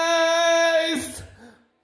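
Lead vocal through the Magic 7 room reverb, a sustained sung note with rich harmonics that breaks off and leaves a short room tail fading to silence within about a second.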